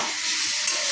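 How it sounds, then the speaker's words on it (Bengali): Spices being stirred into hot oil in a frying pan for a vegetarian dish, a loud continuous sizzle and hiss with a brief scrape, heard up close and alone. "ভালো করে নেড়ে চেড়ে দিচ্ছে, মশলা দিয়ে দিচ্ছে।"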